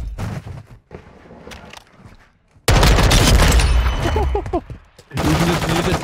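An M4 rifle firing in Modern Warfare 2, with loud sustained automatic bursts filling the second half, preceded by quieter game sounds and someone speaking, and scattered shots and impacts during the firing.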